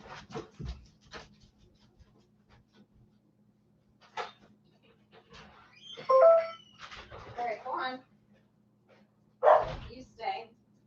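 A pet dog barks and yips indoors in short sharp bursts separated by quiet gaps, with some panting and whimpering, fairly close; someone talks intermittently between the barks.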